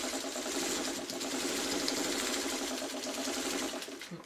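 A sewing machine runs steadily, stay stitching around the edge of a paper-pieced Pinetree quilt block, a continuous close mechanical whir that slows slightly at the end.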